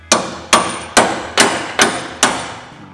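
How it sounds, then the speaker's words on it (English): A hammer drives a bolt into place in a garage, six sharp metallic strikes at a steady, even rhythm, each ringing briefly before the next, loud and close with no talk over them. "Did you just hammer the bolt in there?"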